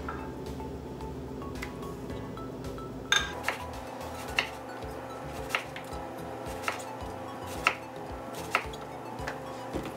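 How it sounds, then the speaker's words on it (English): Knife chopping through a massive zucchini on a board, a steady series of sharp, close taps and thuds spaced about half a second apart over a low background hum. "So I'm gonna cut this up and grill it up on the stove."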